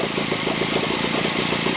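OS FT 120 Gemini model engine, first generation, idling on a bench during its initial run, a steady loud buzzing drone with a fast even pulse.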